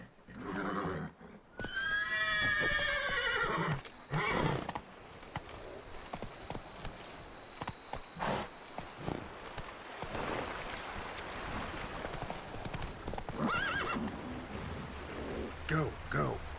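Horse in The Witcher 3: Blood and Wine whinnies loudly and close, with a rising neigh near the start and another near the end, over steady hoofbeats and game ambience, while a person talks in between.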